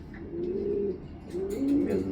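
A racing pigeon from a Padua loft gives a few soft, low throaty coos in two breathy swells, close and clear with no talking over it.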